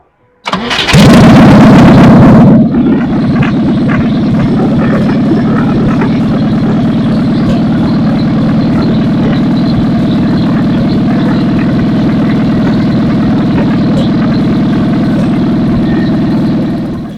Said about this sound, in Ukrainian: Запускай. І запускається добре, і працює добре.